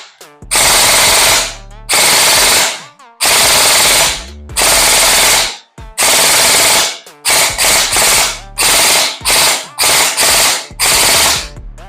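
A GelBlaster GBR Copper Head gel blaster firing full auto, loud and close: long buzzing bursts of rapid shots, then a run of shorter bursts with brief gaps between them.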